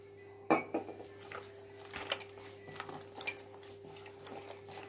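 A utensil clinks and scrapes against a bowl while beuri dal batter is whisked with water, with sharp knocks and irregular taps over a steady electrical hum in a quiet kitchen.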